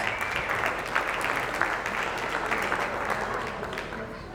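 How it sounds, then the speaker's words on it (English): An audience applauds at a live gun auction at a freedom festival, a steady wash of clapping from a crowd lasting several seconds. "Round of applause."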